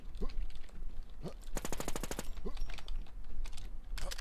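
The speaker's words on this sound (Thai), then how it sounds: "คีย์บอร์ดใหม่ว่าต้องพิมพ์ช้าๆนะครับ ผมยังกดยังไม่เข้าจะถูกตัวเลยตอนนี้" Rapid clatter of keys on a new computer keyboard, a fast burst of clicks in the middle, with a few short vocal sounds before and after.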